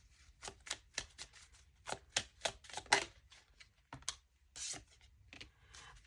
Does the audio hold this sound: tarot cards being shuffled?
yes